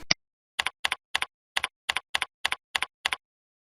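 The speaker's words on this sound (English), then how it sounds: "You will now input your username and password for C.A.R.'s account." Computer keys are tapped in a sparse, even sequence of about nine close double-clicks, each keystroke crisp and separated by short silences, following a single sharper click at the start.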